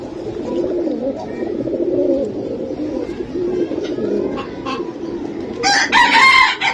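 Pigeons at a Bangladeshi pigeon market, including Giribaz breeds, give a steady low cooing murmur with a brighter bird call near the end, all close and continuous.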